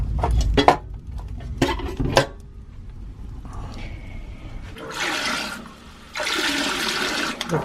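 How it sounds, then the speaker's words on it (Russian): Tap water runs into a container in a home kitchen in two strong rushing bursts, after earlier clinks of dishes and cutlery. "Вода наполняется."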